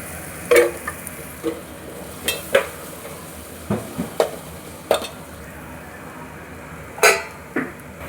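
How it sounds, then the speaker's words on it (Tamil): Masala with turmeric, garam masala and chili powder is sautéed in a pan, a low continuous sizzle punctuated by a dozen sharp, irregular scrapes and clinks of a spoon against the metal, close and clear without talk. "அந்த மல்லித்தூள் போட்டு நல்லா வதக்கிக்கோங்க"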